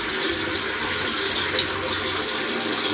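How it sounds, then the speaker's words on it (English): Water rushing steadily into a Kohler toilet tank after a canister flush valve gasket repair, a loud, close, continuous hiss with no pauses and no talk. "And then turn on the water."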